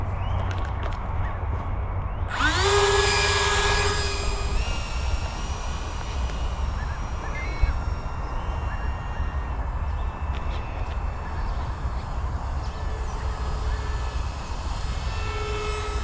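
An RC model plane built after the Canberra bomber, flying on smaller outer wings, buzzes overhead outdoors; its electric motor whine rises suddenly and then holds a steady, high tone as it flies, fairly close and loud.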